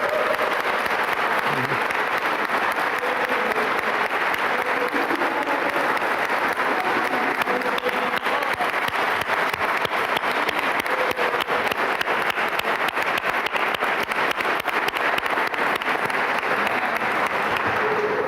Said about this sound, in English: let's give her a applause